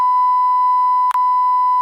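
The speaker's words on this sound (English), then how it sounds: "all these beeps in these damn file" A loud, steady high-pitched censor beep holds for nearly two seconds, broken by one very brief gap near the end.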